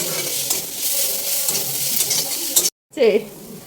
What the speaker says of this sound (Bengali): এটা নাড়ো নাড়ো, ওটা নিভিয়ে দাও সুজিটা। আর পেঁয়াজটা একটু ভালো করে ভেজে নিতে হবে।